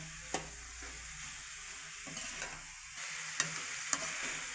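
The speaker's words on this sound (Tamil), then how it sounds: "இந்த மாதிரி கிளறி விட்டு மூடி விடுங்க" Carrot, beans and paruppu usili being stirred in a pan over a low, steady sizzle, with a spoon clicking and scraping against the metal a few times, close up and without talk.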